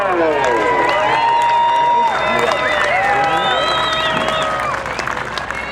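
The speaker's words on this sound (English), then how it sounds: "how about a nice Bakersfield round of applause for the one and only TV, Tommy Ivo" A crowd at a dragstrip hot rod reunion applauds and cheers, loud and dense, while voices in the crowd shout and whoop over the clapping.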